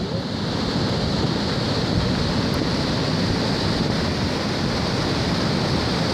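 Floodwater from a rising creek rushes into a home in a steady, loud, unbroken roar of churning water that stays even throughout.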